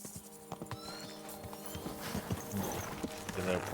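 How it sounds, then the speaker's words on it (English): Horse hooves clip-clop at a steady gait with a neigh, from a horse in the video game Kingdom Come: Deliverance II, moderately close with game ambience and music underneath. "I have my horse."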